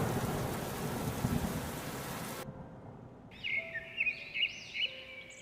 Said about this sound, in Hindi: तेज हवा चलने के बाद बरसे बादल किसानों पर आफत बनकर टूटे।